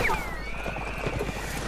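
A horse whinnies in Mount & Blade Warband: Napoleonic Wars, a high, wavering neigh riding over steady clip-clop hoofbeats and ambient battlefield noise, loud and close throughout.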